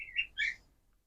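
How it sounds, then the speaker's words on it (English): A pair of small birds chirp briefly in quick succession, two bright, clear notes nearby with nothing else around them. "we got some birds that like to chime in on this subject too"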